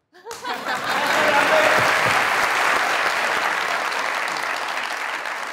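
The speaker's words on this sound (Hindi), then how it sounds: "इनको इतनी खूबसूरत परफॉर्मेंस पे तालियों के साथ रुखसत करें।" A studio audience at a comedy talk show breaks into loud, sustained applause after a performance, rising sharply and holding full, then slowly thinning toward the end.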